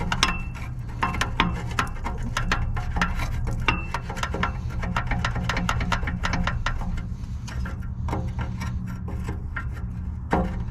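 A wrench working on a car's oxygen sensor, giving a steady run of quick ratcheting clicks and metallic ticks over a low rumble, close and continuous with no talking.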